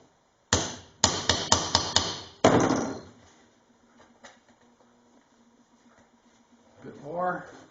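Close, sharp hammer blows flattening a rivet ring out in a quick series of five or six metallic strikes while fitting a Cadillac rear side window channel, then quiet, with a short voice at the end.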